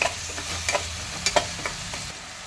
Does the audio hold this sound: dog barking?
no